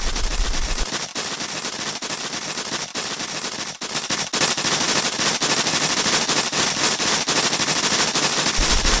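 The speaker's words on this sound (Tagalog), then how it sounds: "Pinapaulanan tayo ng pellet." Rapid, sustained pellet gun fire rattles through an animated shootout, a dense continuous stream of loud shots with brief gaps.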